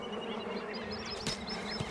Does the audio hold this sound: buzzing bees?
yes